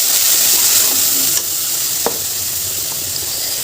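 Water poured into a pan of frying onion and ginger-garlic paste, a loud continuous sizzle with stirring, a couple of sharp clicks of a spoon against the pan, and no talking.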